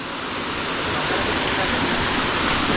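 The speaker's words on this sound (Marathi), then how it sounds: "इकडे एक झिरपी आहे झिरपी म्हणजे ओढ्याच्या अगोदरचं जे पाण्याचं ठिकाण त्याला बोलतात झिरपी" Water from a seep in a Konkan forest during the July monsoon makes a steady, fairly loud rushing hiss that builds slightly and continues without a break.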